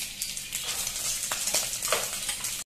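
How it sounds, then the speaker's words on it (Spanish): Pork ribs fry in hot oil, giving a steady crackling sizzle with scattered pops and spatters throughout, close and continuous until it cuts off abruptly at the end. "Ya que el aceite está caliente, voy a agregarle la costilla para freírla."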